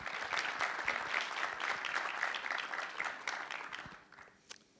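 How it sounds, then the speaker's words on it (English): Warm applause from an audience welcoming a guest to an in-conversation talk at the Marrakech Film Festival: dense, sustained clapping from a crowd that fades out over the last second, with a faint voice underneath. "please give him a warm, welcoming round of applause"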